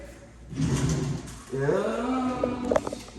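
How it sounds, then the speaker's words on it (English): A drawer in a newly built home slides open or shut with a soft rolling scrape and a faint thud, fairly quiet and close, with no talking. "I'm gonna put it in your drawer."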